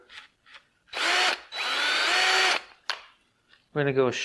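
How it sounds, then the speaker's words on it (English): A power drill whirs in two sustained bursts while repairing a part on an abandoned 1962 AMC Rambler, close and loud, with short pauses between, followed by a voice speaking briefly. "Drill, baby, drill."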